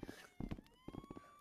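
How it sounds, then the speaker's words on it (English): A police siren sounds in a Rec Room horror video game, a faint steady wailing tone rising slowly in the background while several people talk over it in bursts. "Oh, there's police sirens."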